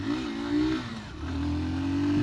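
A Hero Super Splendor Xtec 2.0 125cc motorcycle pulls away in first gear, its engine note rising steadily and close by with a brief dip midway before climbing again.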